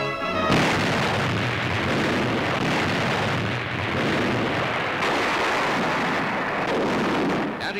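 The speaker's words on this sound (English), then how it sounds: "the Iowa's commander, Captain McCrae, orders her 9 16-inch guns to fire a mighty salvo" Battleship USS Iowa firing a salvo from her nine 16-inch guns during a 1944 testing cruise, a massive continuous roar and rumble of heavy gunfire that fills the whole stretch, loud and dense.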